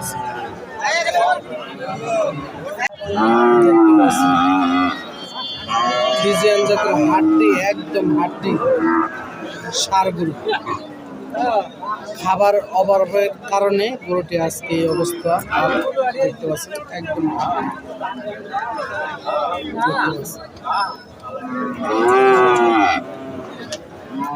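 Friesian and crossbred bulls moo repeatedly at a farm cattle market, several loud calls close by over a steady crowd hubbub and ongoing talk.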